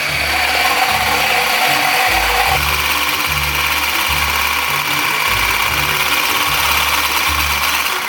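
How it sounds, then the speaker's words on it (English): An electric hand mixer whips eggs for banana bread, running as a loud, steady, close motor whir with a rhythmic rattling churn the whole time. "I have a hand mixer here which I'm going to use to just"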